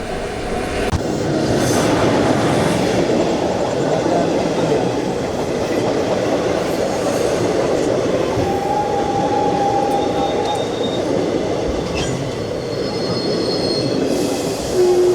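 Night passenger train running between Mokama and Bakhtiyarpur junction, heard from inside as a constant loud rumble and rattle of wheels on track, with intermittent squeals and faint clicks.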